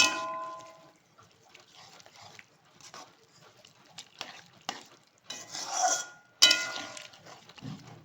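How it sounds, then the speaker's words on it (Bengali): Fried green jackfruit is stirred in a kadai for a chilli dish, making intermittent scraping and rustling strokes that grow louder and busier toward the end, close by with no talk. "তারপরে যে এঁচোড়টাকে ভেজে রাখা হয়েছিল সেটাকে দিয়ে দেওয়া হলো কড়াতে।"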